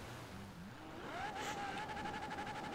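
Car engine in the racing game Forza Horizon 4, next to a Lamborghini Aventador: the revs climb quickly and then hold at a steady, buzzing redline whine for over a second, moderately loud and alone.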